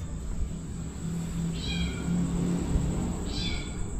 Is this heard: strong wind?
no